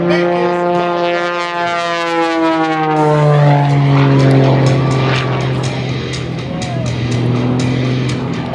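A 400-horsepower, highly modified Pitts Special biplane's propeller engine roars and shifts pitch continuously at a 2013 airshow in Shafter, California, its drone rising and falling as it maneuvers nearby.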